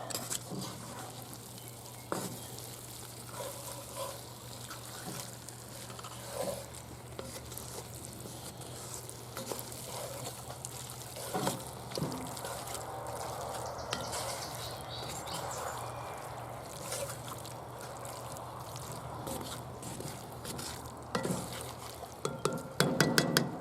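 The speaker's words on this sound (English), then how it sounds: "Stir that up in there." Salty elk stew being stirred in a cast iron Dutch oven on an outdoor grill, a steady bubbling sizzle with scraping spoon strokes and occasional metal clinks throughout.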